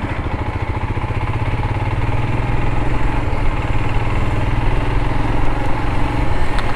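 A Royal Enfield Himalayan motorcycle engine drones steadily and loudly up close while riding, a continuous low rumble with a throbbing mechanical beat.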